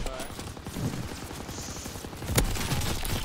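Rapid bursts of gunfire crackle in a first-person shooter video game match, close and loud, mixed with a player's voice talking over the shots.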